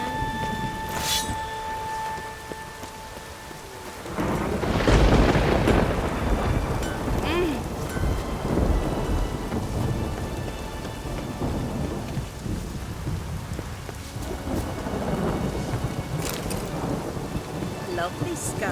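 Rain and thunder during a storm in The Witcher 3: Wild Hunt. A steady downpour hisses throughout, with heavy rolling thunder swelling in around the five-second mark and a later rumble near fifteen seconds.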